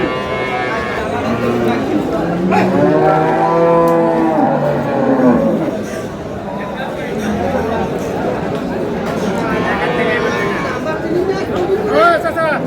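Several cows and calves moo loudly at close range amid a busy cattle market crowd in Dinajpur, with people chattering and calling out over the lowing throughout.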